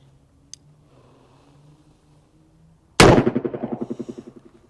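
A single loud revolver shot from a Smith & Wesson 38/44 Heavy Duty firing 130 grain Remington ammunition cracks after near silence, followed by a rapidly pulsing, fading echo.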